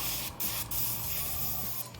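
An airbrush sprays cleaner through to flush out leftover primer, giving a continuous loud hiss broken by two brief pauses where the trigger is released.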